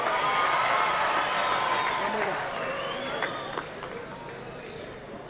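Audience applause and cheering at an outdoor 2024 Freedom Day celebration, a steady dense wash of clapping from a large crowd that fades slightly toward the end, with voices mixed in.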